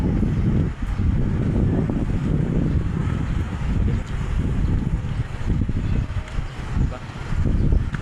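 Strong wind buffets the microphone high up on the fifth floor of a building under construction, a steady low roar with gusty surges lasting throughout, with no voices.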